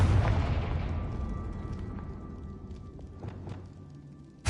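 A Confringo blast spell from Hogwarts Legacy erupts in one loud, rumbling boom at the start, then decays slowly into a long fading tail with faint crackles, and a new burst cuts in at the very end.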